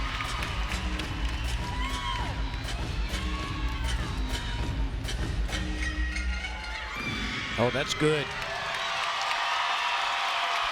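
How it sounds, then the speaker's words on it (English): Gymnastics arena crowd at an Arkansas State versus LSU meet cheering and applauding after a landing, a broad sustained roar under a commentator's voice, with a brief swell near the end. "And the crowd appreciates it."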